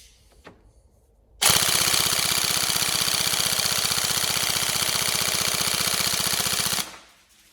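Upgraded Tokyo Marui M4 NGRS airsoft electric gun firing one long full-auto burst of about five seconds, a loud, fast, even buzzing rattle that starts and stops abruptly after a few faint clicks.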